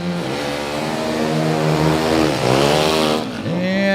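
Dirt bikes at a race start gate, among them a KTM 300 two-stroke, rev loudly and close, engine pitch climbing, dipping and surging again in a dense, buzzing roar.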